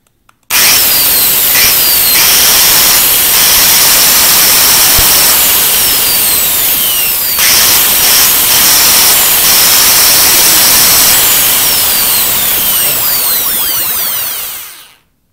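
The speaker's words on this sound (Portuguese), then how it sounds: "só um teste mesmo para saber o motor como é que tá" An orbital saw motor starts abruptly during a maintenance test and runs at a loud, steady high whine for several seconds, then spins down and stops.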